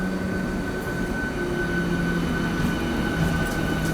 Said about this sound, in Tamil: ஒரு மெமோ ஒன்று வருதுங்க